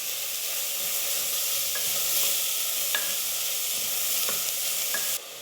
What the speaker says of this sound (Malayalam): ഇനി സവാളയിലേക്ക് കുറച്ച് ഉപ്പ് ചേർത്ത് കൊടുക്കാം. സവാള നന്നായിട്ട് വഴന്നു വരുന്നതിന് ഉപ്പ് ചേർക്കാം.